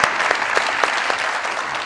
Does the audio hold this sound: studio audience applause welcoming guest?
yes